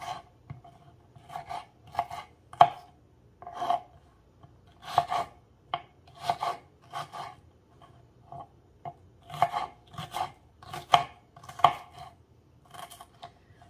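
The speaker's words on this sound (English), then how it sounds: "So I'm dicing my onions up extra small." A knife dices a small red onion on a cutting board in repeated short, crisp chops, close and fairly loud, in uneven bursts with brief pauses between runs.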